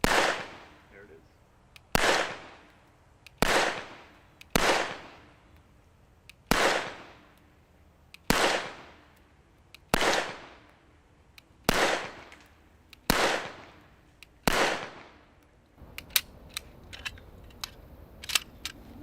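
A handgun fires about ten sharp shots in a steady rhythm, each a loud crack with a short decay, followed by quieter clicking and rattling at the end.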